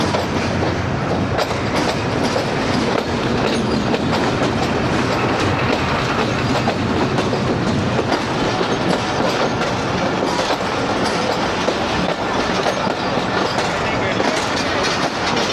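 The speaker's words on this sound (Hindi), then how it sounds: "ZCU 26403 के साथ आ रही है 14 डाउन।" The 14 Down Awam Express rolls in behind locomotive ZCU 26403, a loud, continuous rumble of wheels and rattling carriages with clickety-clack throughout and no voices.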